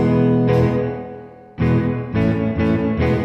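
An electric guitar played through a Teisco interface's amp simulation, heard as a strong sustained chord, then a fading ring, then a burst of several rhythmic strummed chords, loud and alone without talk.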